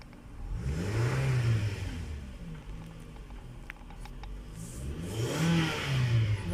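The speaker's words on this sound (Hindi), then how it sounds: "गाड़ी बिल्कुल सही रेस ले रही है।" A 2013 Toyota Camry engine revs after an ECM repair, loud and close, climbing and falling away twice with a steady idle between the surges and no voices.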